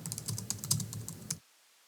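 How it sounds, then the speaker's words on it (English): Rapid close keystrokes on a computer keyboard clatter in a dense burst for about a second and a half, then stop abruptly into silence. "I want to type my own message."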